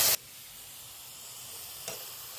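Tomato paste hits hot oil spiced with cardamom, cloves, cinnamon, a chili and bay leaves, giving a sharp loud burst of sizzle that quickly settles into a soft, steady hiss with one brief flare near the end.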